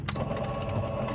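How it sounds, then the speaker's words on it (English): A sewing machine runs steadily through a seam with a quick mechanical whir and a fast needle rhythm, close and alone, in a brief burst. "So now we're going to start sewing it down."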